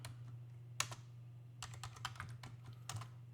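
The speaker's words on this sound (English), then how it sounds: "And you type buffalo" Sparse keystrokes tap on a computer keyboard at a Linux terminal, a few isolated clicks followed by a quick cluster, close and clear over a low steady hum.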